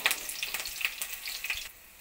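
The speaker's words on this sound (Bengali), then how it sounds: "রসুনটা হালকা ভেজে নেব।" Crushed garlic and green chillies fry in hot oil, giving a steady close sizzle with small popping crackles throughout, alone with no voices.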